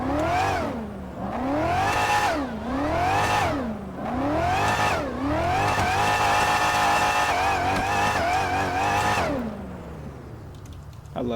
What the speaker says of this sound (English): Here's the engine sound for it.